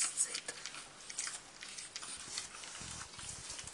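Month-old pug puppies eating, with soft wet chewing, lapping and little smacking sounds in quick irregular bursts, close and quiet.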